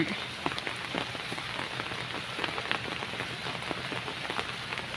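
Steady rain patters on a surface beside a rice-field lotus pond, a dense continuous hiss of drops with scattered louder taps, no voices.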